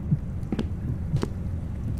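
Heartbeat in a horror video game, a faint, slow thudding pulse with a couple of soft beats against a low hum, no voices.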